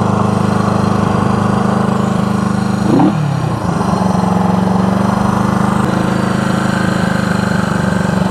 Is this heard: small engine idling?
yes